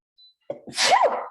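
A single close, forceful sneeze: a brief inhale, then a sharp explosive burst that trails off over about a second.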